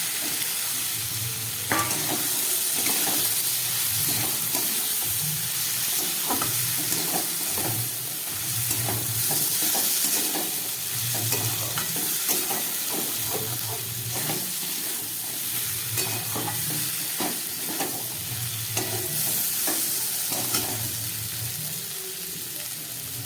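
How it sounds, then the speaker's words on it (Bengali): Boiled kidney beans go into a pan of fried-down spiced masala and are stirred steadily, with a constant close sizzle and repeated scraping strokes throughout. "মশলাটা কষে গেছে। এবারে দিয়ে দিচ্ছি আমি সিদ্ধ করে রাখা রাজমা।"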